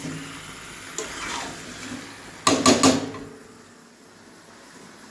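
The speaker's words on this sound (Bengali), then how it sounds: "এবার একটু কষিয়ে জল দেবো।" Water is poured into a pan of frying potato curry, bringing a brief splashing sizzle that flares, then settles into a soft fading hiss amid kitchen background noise.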